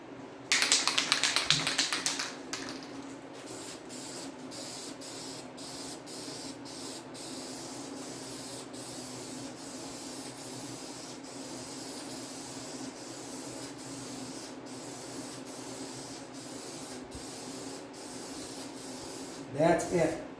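An aerosol can sprays a light guide coat onto bare metal on a 1968 Pontiac GTO 400 project, with a loud hiss at first, then a long softer spray broken by short pauses and a brief burst at the end.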